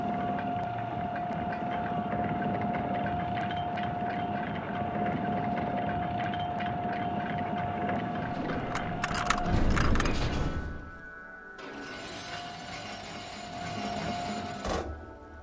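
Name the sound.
waterlock lever clunk and machinery moving, from video game Disco Elysium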